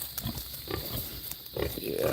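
A young male pig digging in a mulch pile grunts in brief low snorts at close range over a windy, noisy outdoor background.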